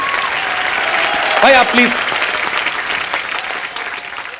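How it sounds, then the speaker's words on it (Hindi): Loud audience applause fills a comedy talk-show studio, steady clapping throughout with a brief spoken voice over it midway. "एक बार जोरदार तालियां हो जाए"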